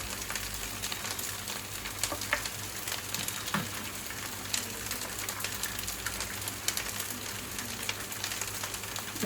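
Chicken frying in a pan, browning with a steady close sizzle and scattered crackling pops running throughout, with no talk.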